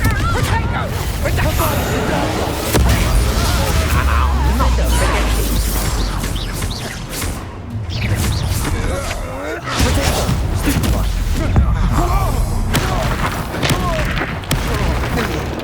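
Confringo blasting spells explode during Hogwarts Legacy combat: a dense, loud run of booms, crashes and thuds that keeps going throughout, while voices shout over the blasts.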